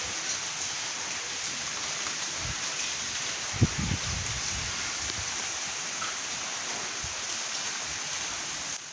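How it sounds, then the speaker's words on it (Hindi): Steady heavy rain hisses continuously, with a few soft low thumps of drops striking leaves close by; no voices. "बारिश देखिए कितनी ज़बरदस्त हो रही है।"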